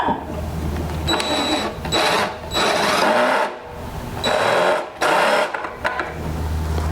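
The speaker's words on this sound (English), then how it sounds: "So we're gonna run this screw into the board." Power drill driving a screw into a wooden board, several close whirring bursts of a second or so each, with brief pauses between them.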